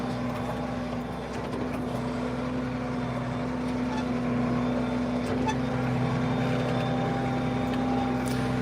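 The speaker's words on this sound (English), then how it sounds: "The tractor's got to keep moving." A tractor engine drones steadily nearby, a constant low hum with a slight rise partway through, no talking.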